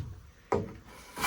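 A hand plane is pushed once across a board of sapele, making a single short, quiet rasping stroke, followed by the start of a second.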